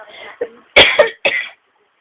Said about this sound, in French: quand je tousse comme ça, c'est que ma gorge a pris un petit coup de froid